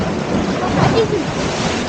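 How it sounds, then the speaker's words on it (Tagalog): Big, dangerous ocean waves surge and roll on a windy shore, a continuous loud wash of surf with wind buffeting the microphone. "The wave is very big. It's dangerous."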